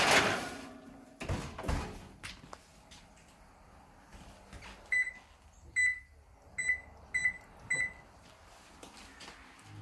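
A baking tray of Russian tea cookies going into a kitchen oven, with a clunk and clatter of the door and tray, then a run of short, sharp electronic beeps from the oven controls.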